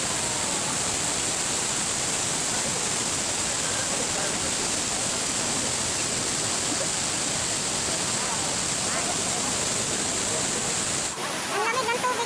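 Waterfall at the Hacienda Escodero restaurant, where the dining area sits in the water, roars as a steady, loud, broadband rush throughout, with a brief shift near the end.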